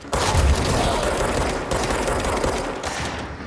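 Rapid, dense gunfire from a shotgun in the video game Control, a loud sustained burst of overlapping blasts that runs almost the full length before thinning out at the end.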